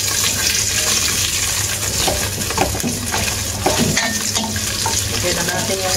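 Food sizzles steadily in a pan on a home stove, with soft stirring scrapes and occasional clinks of a utensil, close and continuous with almost no talk.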